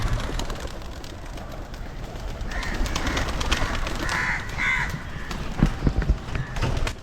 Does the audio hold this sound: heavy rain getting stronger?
no